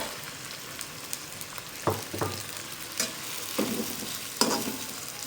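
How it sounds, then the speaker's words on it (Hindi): Cabbage and mixed vegetables fry in a pan for chicken fried rice, with a continuous sizzle broken by several clinks and scrapes of a stirring spatula; no voices. "इसको भी फ्राई कर लेंगे साथ में।"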